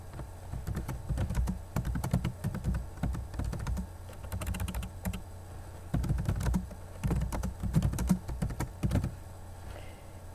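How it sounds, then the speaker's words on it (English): Someone types a title on a computer keyboard, steady bursts of soft clicking keystrokes with short pauses between words, close and fairly quiet. "Make sure that you select the center text option and then type the title."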